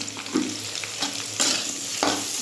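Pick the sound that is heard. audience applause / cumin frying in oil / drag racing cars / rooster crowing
cumin frying in oil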